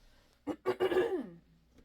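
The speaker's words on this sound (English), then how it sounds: "Sorry for keep clearing my throat." A single short throat clearing, close and quiet, a quick rasping burst followed by a brief voiced grunt.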